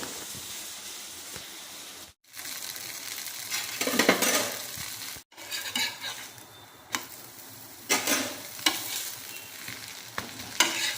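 A ghee dosa cooks in ghee on a hot pan, giving a continuous close hiss and sizzle. Short scraping and stirring noises rise over it at times, and two brief cuts of silence break the sound.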